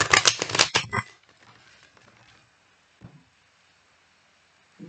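A deck of cards being shuffled up close: a loud, rapid riffle of fluttering card snaps lasting about a second, then near silence broken by a couple of soft taps.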